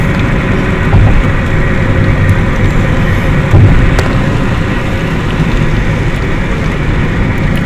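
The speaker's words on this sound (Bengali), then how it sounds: "এখন প্রচুর বৃষ্টি হচ্ছে," Heavy downpour at Terminal 3 of Hazrat Shahjalal International Airport in Bangladesh, with parts of the runway flooded: a loud, steady roar of rain that holds unbroken throughout, with a couple of slightly stronger gusts and no voices.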